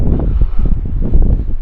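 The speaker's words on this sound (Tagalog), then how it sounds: "dahil sobrang lakas yung hangin" Strong wind buffets the microphone beside a river during a fishing outing, a loud, steady low rumble with gusting surges throughout and no voices.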